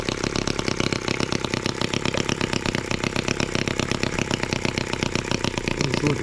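An M14 twin-cylinder tractor engine runs under load with a rapid, even chugging pulse, close and loud, steady from start to finish without talk.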